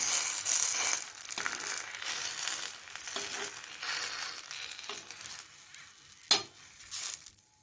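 Patishapta pitha, kheer-filled Bengali crepes, frying in a pan: a steady close sizzle with scraping and crinkling stirs, and one sharp knock near the end.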